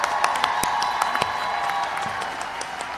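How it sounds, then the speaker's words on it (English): A crowd applauds graduates of a communication management program at a university commencement ceremony. The clapping is dense and steady, with sharp individual claps standing out near the front, and it carries on without speech. "Let's give a round of applause for all of our communication management graduates"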